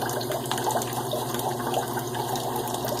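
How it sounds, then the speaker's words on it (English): A bathroom faucet barely running in a thin, steady trickle while lathering for a head shave, giving a continuous, even splashing hiss with no voices. "when I've got the faucet barely running, so it's just a trickle"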